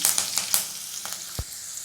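Curry leaves and dried red chilies hit hot oil with a crackly sizzle and a few sharp pops, brief and close, after mustard seeds and garlic in a Tamil lemon rice preparation.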